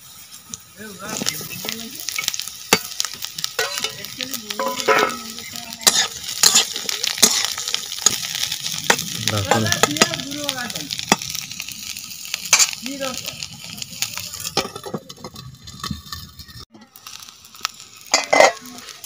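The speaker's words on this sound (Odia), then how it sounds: "ଏ ଦେଖନ୍ତୁ ଆମର ପିଆଜ ଭଜା ହେଇ ଆସିଲାଣି।" Onions frying in a pan for piaja on a village stove: a steady sizzle broken by repeated scraping and stirring clatter from a spoon against the pan, close and fairly loud.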